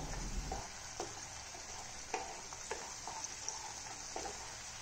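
Masala paste with cumin seeds sizzles and crackles in a kadai for an egg masala curry, a steady soft frying hiss with small pops and occasional stirring scrapes.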